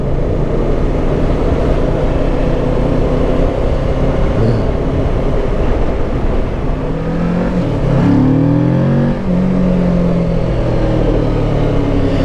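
A Kawasaki Ninja 650 motorcycle engine drones loudly and steadily while riding, with rising and falling revs around the middle and no voices over it.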